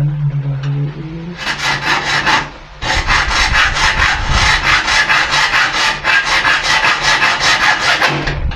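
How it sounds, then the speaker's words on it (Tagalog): Hand saw cutting wood for a double-panel screen door, rapid back-and-forth strokes rasping steadily and loudly after a brief pause, close up with no talking. "Lagariin nyo siya ulit. Yan, lagariin."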